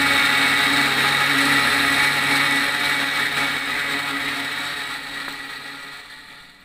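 Machine mixing fibers into paste for a car battery's negative plate, running as a steady close whirring drone that holds level and then slowly fades toward the end.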